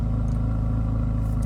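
A Chevrolet Corvette C8 Z06 idles in track mode with a steady, deep, even engine note and a fine mechanical clatter, close and loud, without any revving.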